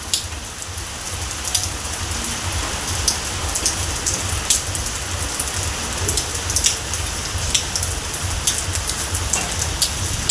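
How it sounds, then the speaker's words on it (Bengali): Heavy rain pours down under dark clouds in a railway town, a dense, steady hiss of drops drumming on surfaces throughout, with no voices. "রাত দিন কিভাবে বৃষ্টি হয়ে চলেছে"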